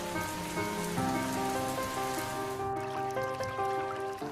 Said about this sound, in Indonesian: Musim hujan tiba